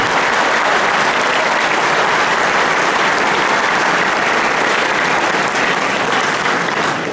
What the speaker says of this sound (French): on peut applaudir nos policiers